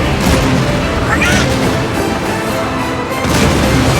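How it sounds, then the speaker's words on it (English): Cannon fire from a pirate ship in the video game Kingdom Hearts 3, heard as dense, loud booming blasts that continue steadily throughout under a busy game soundscape. "Cannons!"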